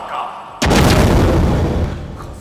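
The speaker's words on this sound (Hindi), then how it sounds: "आका का धमाका" A sudden loud explosion blast from a Hindi TV drama bursts in after a quiet moment, then a heavy booming rumble that slowly fades away.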